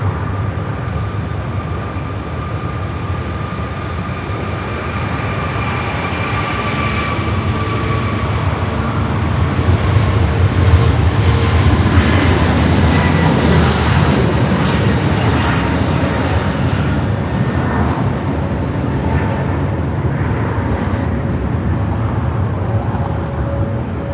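A British Airways airliner takes off from the south side at LAX, its jet roar loud and continuous, swelling to a peak midway and slowly thinning as it climbs away, with no voices.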